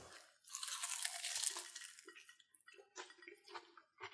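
Someone bites into a crisp puff pastry bundle of asparagus, prosciutto and cheese, giving a loud close crackling crunch followed by several softer chewing crunches.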